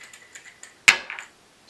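A metal swing arm desk lamp clamps onto a desk: several faint ticks of the mechanism, then one sharp metallic clack followed by a couple of smaller clicks, close by.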